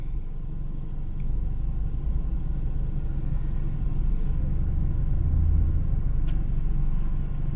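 City street traffic in Cebu City, Philippines, heard as a steady low rumble of idling and passing vehicles with faint higher squeals, continuous and fairly close.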